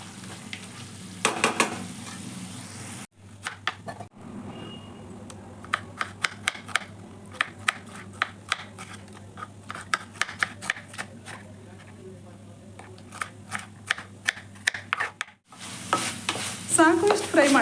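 Small pieces of chicken fry in a pan for chicken dry, dense rapid crackling and sputtering with brief quieter gaps and a louder burst of stirring at the end; a voice speaks at times.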